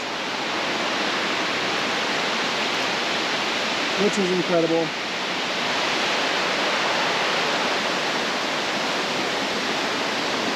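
Water rushing in a creek by a waterfall at Upper Creek Falls in Linville, North Carolina, a steady broadband roar at a campsite, with a brief spoken voice over the constant flow partway through.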